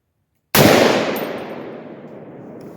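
A single loud, close rifle shot from a Palmetto AR-10 firing 150 gr .308 rounds, a sharp blast followed by a long decaying echo tail across an open range.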